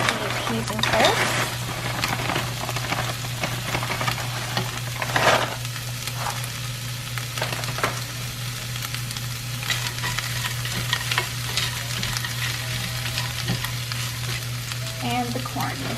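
Peas and carrots sizzle steadily in a frying pan for a vegan pie, with occasional stirring scrapes over the constant crackle and a low background hum.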